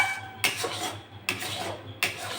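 Raw mango pulp cooked down with sugar in a pan is stirred with a utensil, three distinct scraping strokes against the metal, close and moderately loud, with no talking.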